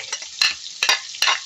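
Pork with onion and garlic frying and being stirred in a hot pan for a Filipino pork and besol tomato stew, with a steady sizzle broken by three loud scraping stirs, close and without talk.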